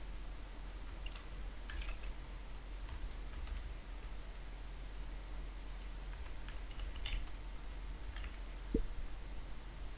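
Faint scattered keystrokes on a computer keyboard while header text is typed into a Publisher page, soft irregular clicks over a steady low hum and room noise.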